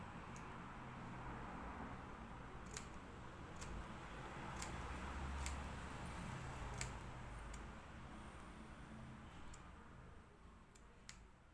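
Scissors cut through fabric for a sleeve cuff, with faint, sharp snips spaced irregularly over a quiet room background.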